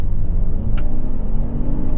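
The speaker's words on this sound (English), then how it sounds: "Literally, the front right wheel started to spin," A 2023 Lexus RX500h F Sport Performance hybrid SUV pulling away at three-quarter throttle, its front right wheel briefly spinning: a steady, loud engine and road rumble fills the whole stretch, with a short sharp scrape partway through.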